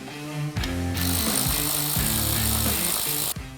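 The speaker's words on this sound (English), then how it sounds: "Now we're going to remove the front bolt on the corner of the airbox bracket." A power tool loosens the front bolt on the corner of the airbox bracket of a Jeep JK with the 3.6L engine. It rattles loudly and close in rapid repeated hammering bursts, running almost continuously for about three seconds with no talk.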